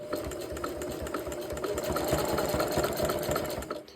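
Sewing machine stitching a scrap-fabric jelly roll rope rug, a steady close mechanical whir and rapid needle chatter running continuously, with no talk.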